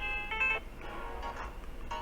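A Samsung Galaxy Note 8 plays a ringtone preview: a short, bright electronic melody of quick tones from the phone speaker, fairly quiet and heard alone.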